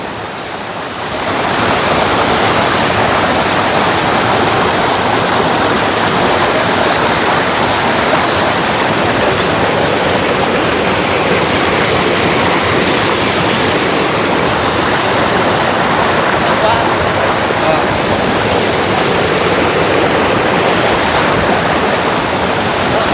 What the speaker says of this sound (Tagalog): Kaya lang ho, malakas yung ulan.